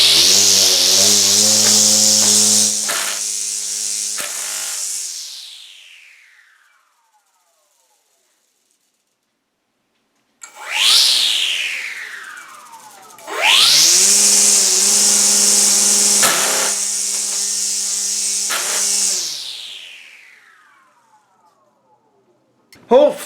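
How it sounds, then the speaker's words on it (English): A Kobalt string trimmer rotor bumped against cardboard taped to a floor to feed the string: two loud, high whining bursts of the spinning head, each winding down, with a short knock at the very end. "I got a piece of cardboard I got taped to my floor that I'm gonna bump the weed eater rotor on to see if it will feed the string."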